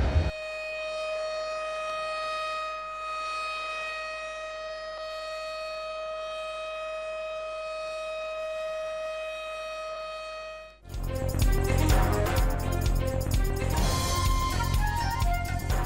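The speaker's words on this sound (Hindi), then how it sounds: "इस्लामाबाद की शाहराही दस्तूर पर सायरन बजाकर 1 मिनट की खामोशी इख्तियार की गई" Sirens wail on Islamabad's Constitution Avenue to mark a minute of silence, a steady multi-tone civil defense wail holding alone for about eleven seconds before giving way to loud, busy program audio.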